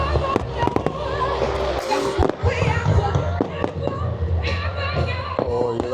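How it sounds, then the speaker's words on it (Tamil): Repeated sharp firework bangs and crackles from a Philippine fireworks display at a festival in Pattaya, Thailand, burst in quick succession, loud and continuous, with crowd noise and voices underneath. "அடுத்தது வந்து பிலிப்பைன்ஸ் ஃபயர் ஒர்க் ஸ்டார்ட் ஆகிடுச்சு"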